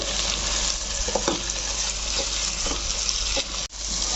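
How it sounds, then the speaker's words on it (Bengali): Ginger-garlic paste sautéing in a pan for a duck meat curry, with a dense, steady sizzle, occasional stirring scrapes and one sharp click near the end. "আদা রসুন দিয়েও আমি তিন মিনিট কষিয়ে নিলাম"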